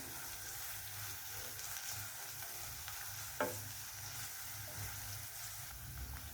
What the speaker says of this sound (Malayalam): ഇനി നല്ലോണം ഒന്ന് വഴറ്റുക.